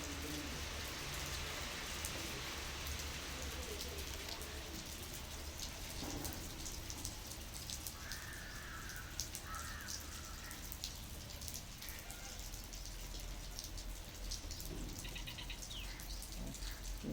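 Steady rain falls over a village with mango trees, a continuous soft hiss of drops on surfaces, while birds call faintly in the distance and occasional drips sound nearby.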